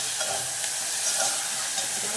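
Drumstick and tomato curry fries in a pan with a steady, close sizzle, and stirring scrapes come through at intervals.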